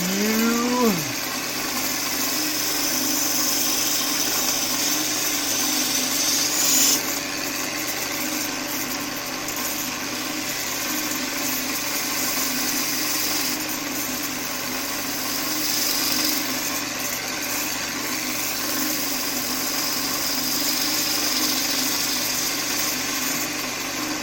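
A wood lathe spins a bowl blank while a bowl gouge cuts it, producing a steady mechanical hum and whine that runs continuously, close and fairly loud, with a brief rising whir at the start.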